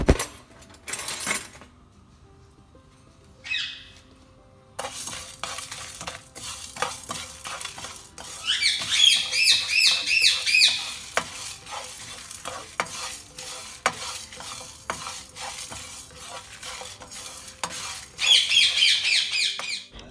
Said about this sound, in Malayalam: ഇനി ഇതെല്ലാം മസാലകളെല്ലാം നമുക്കൊന്ന് ഡ്രൈ റോസ്റ്റ് ചെയ്യണം